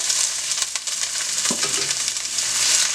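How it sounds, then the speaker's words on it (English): Onion fries in olive oil in a pan, a loud, close, continuous sizzle with a brief stirring scrape midway, no voices. "Over here in my pan, I have some olive oil in here. I'm gonna put some onion in here"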